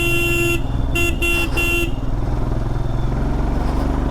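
A vehicle horn sounds in several short, steady toots over the continuous drone of a motorcycle or car engine on a winding, serpentine mountain road, then stops while the engine carries on.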